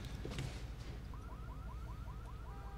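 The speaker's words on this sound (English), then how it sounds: "He set off his car alarm." A car alarm starts up partway through, cycling a rising electronic whoop about every quarter second, moderately distant and faint over a low background rumble.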